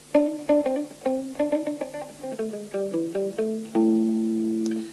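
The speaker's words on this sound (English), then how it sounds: "or if you want to play single notes and get quite a percussive sound" Short, clipped single guitar notes played in a quick melodic run, each one damped and percussive, ending on a longer ringing note.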